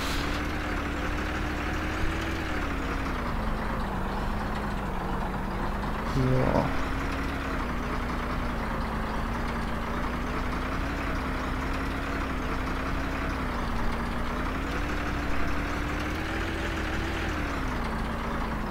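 A truck rumbles steadily along a beach in the Operation Flashpoint video game, its engine droning low and continuous, with a brief bump partway through and a short spoken word.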